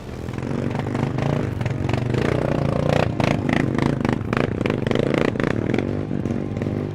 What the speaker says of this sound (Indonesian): semua penumpangnya harus turun untuk bisa bantu dorong motornya ke atas